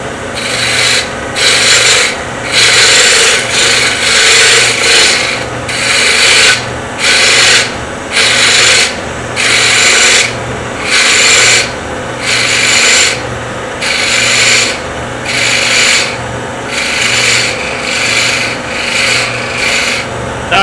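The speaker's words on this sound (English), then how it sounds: "So I think I'll go back to my roughing gouge," A roughing gouge cuts a wooden bottle stopper blank spinning on a lathe, producing loud, steady rasping scrapes in repeated strokes of roughly a second each, with short gaps between passes and a constant motor hum beneath.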